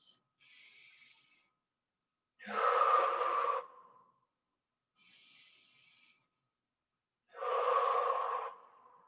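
Slow, deep breaths during a yoga flow, alternating soft hissy inhales and fuller, louder exhales, four distinct breaths in an even rhythm with silence between them, close and alone.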